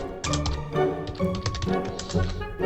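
Rapid keystrokes on a computer keyboard come in uneven bursts, close and fairly loud, with crisp tapping clusters and short pauses between flurries; no one speaks.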